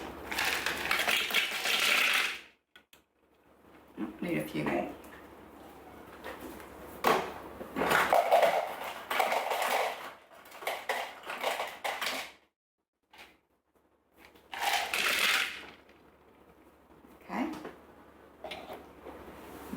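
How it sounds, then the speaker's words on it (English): Ice cubes, 300 grams' worth, tumble into a Thermomix jug for a cold brew espresso martini, giving several bursts of clattering, rattling impacts separated by quiet gaps, with a brief spoken remark in between. "300 grams of ice cubes."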